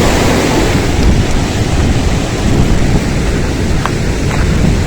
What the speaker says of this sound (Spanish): Se viene la lluvia.